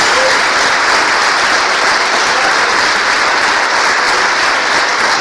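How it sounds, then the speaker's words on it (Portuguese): Church congregation applauding during a sermon, a steady, loud wash of clapping throughout, with no talking over it. "Dê uma salva de palmas a Jesus."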